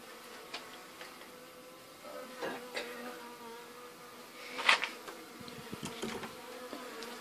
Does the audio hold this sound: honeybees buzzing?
yes